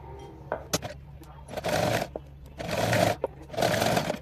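A sewing machine stitches a fabric strip in three short bursts of rapid whirring, separated by pauses with small clicks and handling noises.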